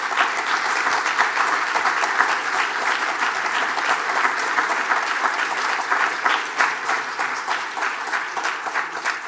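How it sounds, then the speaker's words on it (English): Sustained applause from an audience fills the room at a steady, dense level, with no voices rising above the clapping. "I would like really you to make a round of applause for the work that they've done."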